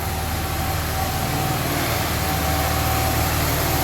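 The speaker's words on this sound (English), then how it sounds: "The generator is going to be running, so it will be kind of loud." A generator drones steadily and loudly with a low, constant hum and a faint tonal whine, running without pause and no voices.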